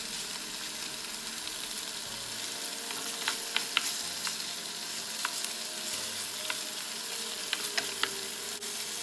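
Chicken afritada sizzles and fries steadily in a pan while being stirred, with scattered sharp clicks and scrapes of the utensil against the pan throughout.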